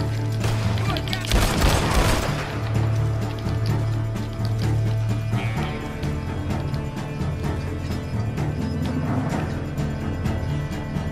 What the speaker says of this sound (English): There's a Maxim gun.